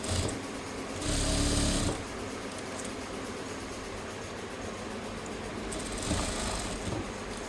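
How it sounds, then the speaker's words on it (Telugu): A sewing machine stitches silky blouse fabric with a steady, close mechanical whirr that runs continuously and swells a little louder near the start and end. "మేమైతే డైరెక్ట్గా స్టిచ్ చేస్తున్నాము"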